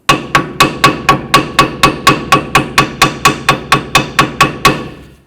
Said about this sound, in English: trying to clean up this area with the hammer and the little chisel